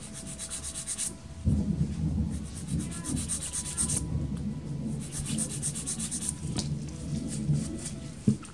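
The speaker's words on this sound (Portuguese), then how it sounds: "Vou lixar a lateral também, posicionando a minha lixa" A nail file is rubbed against the side of a fiberglass nail in steady back-and-forth strokes, giving a close, dry, gritty rasp that pauses briefly between runs.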